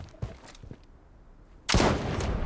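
Gunfire in the video game Blood Strike, with a few sharp shots early on, then a sudden loud burst of rapid fire that carries on for the last second or so.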